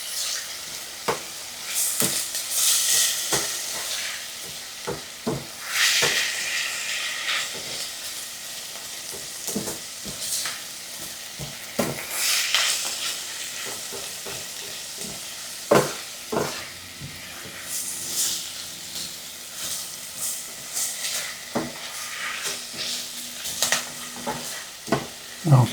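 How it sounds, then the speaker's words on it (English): Ingredients for a white bean tomato soup sauté in a pot, with a soft continuous sizzle broken by repeated scraping and clacking from stirring at close range, no talking. "let me saute this for about a minute"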